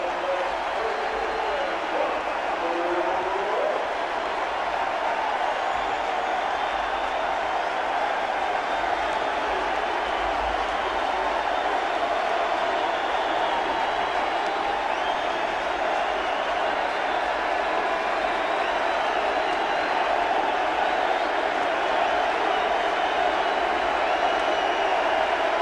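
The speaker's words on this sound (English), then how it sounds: "The cheer for the curtain call" A ballpark crowd in Chicago roars for Sammy Sosa's 48th home run curtain call at a 1998 Cubs game against St. Louis, a sustained, dense wall of cheering and shouting that holds steady at full volume throughout.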